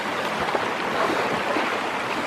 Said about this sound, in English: gotta cross this brook without falling